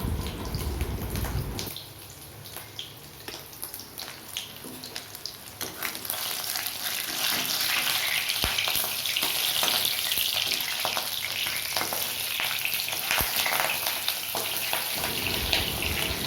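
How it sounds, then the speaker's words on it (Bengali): Fish egg fritters fry in hot oil, a steady crackling sizzle with sharp pops of splattering oil, close and loud, rising in intensity partway through with no talking. "তেল ছিটিয়ে আসছে।"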